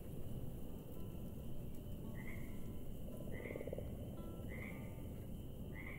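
A large frog in the video game Mortal Shell croaks four times at steady intervals, short rising calls standing clearly above a constant ambient background hum.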